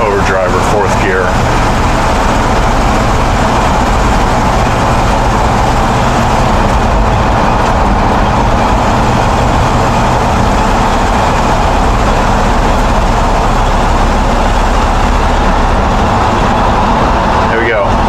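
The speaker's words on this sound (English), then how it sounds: "When we get to about 45, it should go into overdrive or 4th gear." A 1962 Chevy C-10 pickup with a 700R4 transmission driving along, with loud, steady engine and road roar filling the cab and no clear break for the shift into overdrive.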